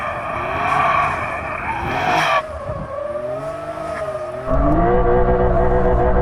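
Tyres skid and squeal on a Lamborghini Huracán Sterrato in a drag race against a Porsche 911 Dakar, a loud, continuous engine roar with gear-change breaks and rising pitch sweeps, ending in a heavier surge.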